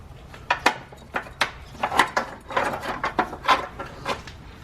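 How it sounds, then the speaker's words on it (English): A wrench works a 13 mm battery bolt loose on a 2009-2020 Dodge Journey, giving an uneven run of light, close metallic clicks and taps. "Okay, remove that bolt completely."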